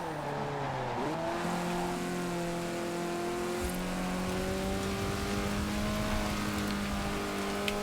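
Race car engine in Forza Horizon 4 taking the final corner of a circuit, loud and close: revs dip sharply around a gear change, then climb steadily in a sustained, rising whine.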